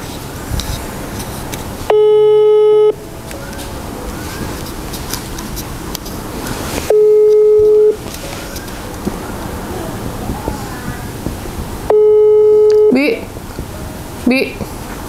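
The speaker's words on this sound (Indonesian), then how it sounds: "Ini kita coba telepon Maedah dulu ya." A mobile phone busy signal sounds three long, steady tones, each about a second long and spaced about five seconds apart, loud over a rough background of wind-like noise.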